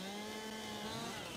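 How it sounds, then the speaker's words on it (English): A chainsaw in Farming Simulator 22 drones steadily and loudly at a constant high pitch while cutting down trees, with no talk over it. "If we buy a chainsaw,"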